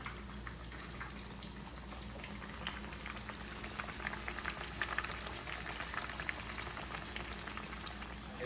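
Breaded chicken pieces fry undisturbed in hot oil, a dense, continuous crackling sizzle with fine popping spatter holding steady and close throughout.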